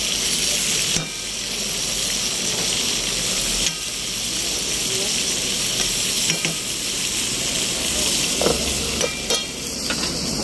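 Chili-heavy masala spices sizzle steadily in a barbecue karahi, a loud, close, continuous frying hiss broken by occasional stirring scrapes, with no talking.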